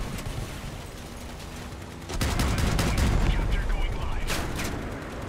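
Vehicle-mounted guns fire in the Crossout vehicle combat video game: dense bursts of rapid gunfire and booms swell after a quieter start and continue steadily, with some talk mixed in.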